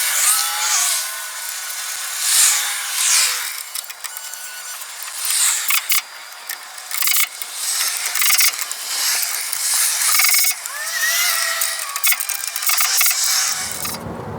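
Ratchet wrench tightening nuts with split lock washers onto bolts while fitting an adjustable drop plate to a 1964 VW Type 3 Notchback's suspension, with steady close clicking and metallic rattling throughout.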